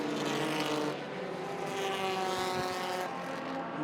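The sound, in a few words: race cars racing around the track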